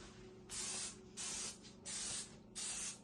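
Four short bursts of aerosol cooking spray hiss onto a flan pan in quick succession, close and fairly quiet, with brief pauses between each spray.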